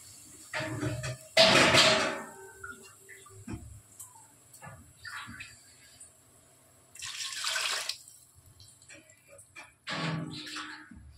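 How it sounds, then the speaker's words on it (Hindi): Water poured in bursts into a cooking pot of rice for Hyderabadi bagara khana, several loud splashing pours separated by quieter gaps, close and without talk. "चार लोटे पानी डालूंगी"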